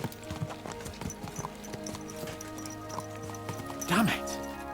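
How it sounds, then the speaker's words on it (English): Horses galloping in Kingdom Come Deliverance II, rapid rhythmic hoofbeats clattering close and loud throughout, with a horse's whinny rising near the end. "Let's really spur these horses on, eh?"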